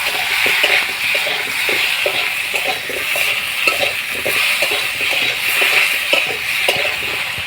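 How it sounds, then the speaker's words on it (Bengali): Potatoes fry in a pan with a steady, close sizzle, broken by repeated stirring and scraping of a utensil against the pan, with no talking. "এবার এতে দিয়ে দেব আলুতে লবণ দিয়ে আলুটা আরও ভালোভাবে ভেজে নেব।"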